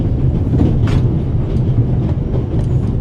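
A train in the video game The Raven rumbles along steadily, a loud continuous low rolling drone with faint rhythmic clatter from the wheels.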